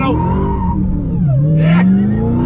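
A 2020 Dodge Charger Hellcat Widebody with about 1,000 horsepower accelerates hard on a curvy road, its loud engine note dipping briefly then climbing steadily in pitch, with a short burst of talk over the roar.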